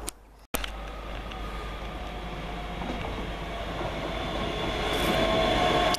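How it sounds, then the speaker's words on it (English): A train running toward Glasgow Central on the Ayr line, heard from on board: a steady, close rumble of wheels and carriage noise that swells slowly, with faint squeals. "So I'm going to get on the train to Glasgow Central."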